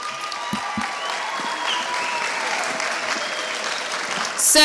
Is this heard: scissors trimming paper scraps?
no